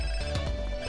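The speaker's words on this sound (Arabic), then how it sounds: "هذا هاتف." A mobile phone ringtone plays in GTA San Andreas Definitive Edition, a short electronic ring with two quick pulses over steady game background tones.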